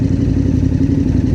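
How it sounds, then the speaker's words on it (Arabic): A motorcycle engine runs hard and steady toward top speed on a highway ride in Germany, a loud continuous drone close to the rider with no talking. "تيست الموتور بغا يدير له الطوب سبيد"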